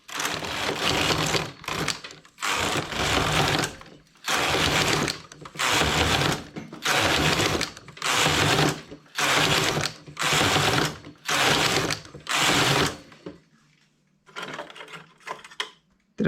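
Knitting machine working English rib squares, its carriage swept back and forth in about ten loud rasping passes with short pauses between them, then quieter clicks and handling as the passes stop.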